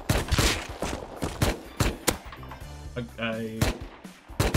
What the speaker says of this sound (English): Another one shooting us.